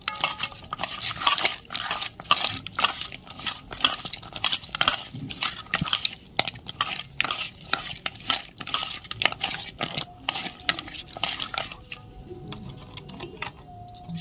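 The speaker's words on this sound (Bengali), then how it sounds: "দিয়ে এবার ভালো করে আমি সব মেখে নেব।" Prawns being mixed by hand in a bowl with turmeric, salt and slit green chillies, with steady close clinks and scrapes against the bowl sounding throughout, no talking.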